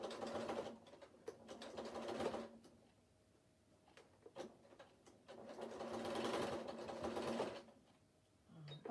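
Domestic sewing machine stitching across fabric binding that covers raw edges, running in two sustained bursts of steady rapid stitching with a quiet pause between them, close and clear with no talk.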